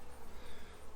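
Honey bees swarm over an open hive as frames are lifted during a mid-July inspection, a dense, steady buzzing hum that stays close and even for the whole moment, with no voices.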